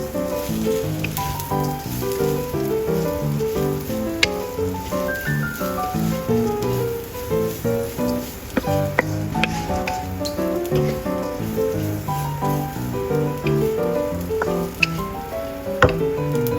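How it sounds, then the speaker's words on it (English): Vegan lemongrass turmeric rice being stir-fried in a pan, a steady close crackle and sizzle with soft pattering scrapes throughout and occasional sharp clicks of the utensil. "Stir-fry rice evenly."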